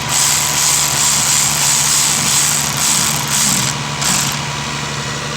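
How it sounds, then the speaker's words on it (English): A car engine idles at a fast, steady rumble close by, with a constant mechanical drone and faint periodic whooshes; no one speaks. "it's still idling high"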